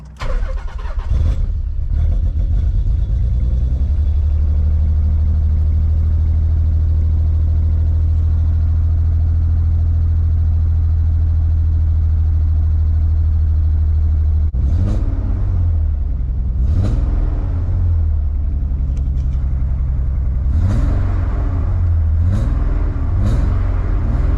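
A Stillen Nissan Z car's exhaust rumbles at a deep, steady idle close by, then the engine is revved in several sharp bursts near the end, each rising and falling back to idle.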